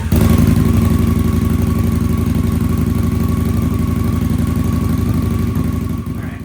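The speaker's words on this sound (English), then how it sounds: "I got to run the bike, heat it, let it get up to temp" A motorcycle engine runs steadily to warm its oil before an oil change, loud and close with a rapid, even putter that fades slightly near the end.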